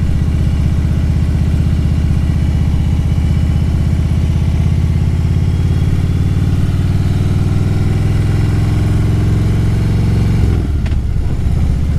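A Harley motorcycle engine rumbling along at slow speed through a park, loud and close, its steady low throb rising slightly in pitch before dropping near the end.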